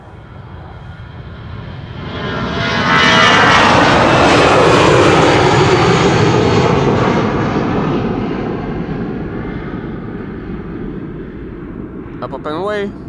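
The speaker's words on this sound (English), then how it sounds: "So, Aer Lingus, flight 603 to Dublin, Ireland. A320, 17 years old." A 17-year-old Aer Lingus Airbus A320 departing Amsterdam Schiphol for Dublin, its engines building to a loud, close roar that peaks and then slowly fades as the jet climbs away.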